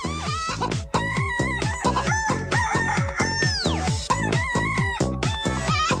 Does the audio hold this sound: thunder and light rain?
no